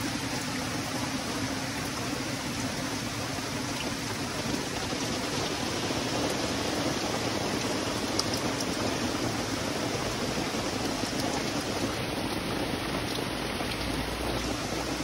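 Steady, even rain hisses without pause at a mountain resort campsite, a dense wash of noise with no voices.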